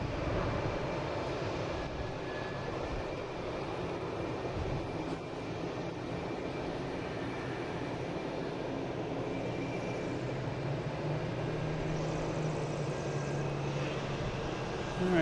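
An airliner arriving from Tokyo Narita rumbles in as a steady, low, broad engine roar with a faint whine above. It stays fairly distant and even throughout, with no talk.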